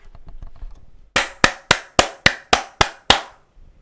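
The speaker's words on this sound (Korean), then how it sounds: "우리 삼성한테 박수 한번 칩시다" Eight sharp hand claps in a steady rhythm, close and loud, follow a short stretch of low murmur, given during a Korean stock-market livestream celebrating Samsung.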